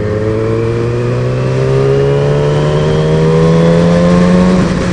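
A 2010 Yamaha R6 motorcycle engine accelerates hard, its loud, close whine climbing steadily in pitch for several seconds before easing off near the end.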